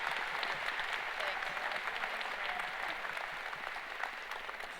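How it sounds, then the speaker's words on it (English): A convocation audience applauds the name readers with sustained, dense clapping that stays loud and steady throughout, filling the hall with continuous claps. "Let's hear it for them. Full claps, full claps."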